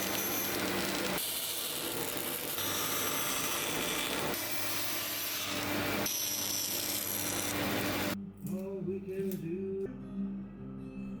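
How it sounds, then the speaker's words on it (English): A bandsaw cuts the outline of a glued wooden top for a five-string headless bass guitar, producing a loud, continuous rasping whine with shifts as the cut progresses, then stopping abruptly near the end as the motor winds down. "the outline of the top is marked and roughly cut out on the bandsaw."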